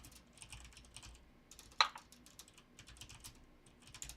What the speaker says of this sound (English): I know we talked about me typing.